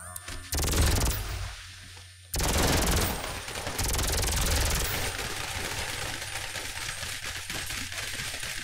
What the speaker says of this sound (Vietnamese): Đây đây mình có hả súng laser luôn nè.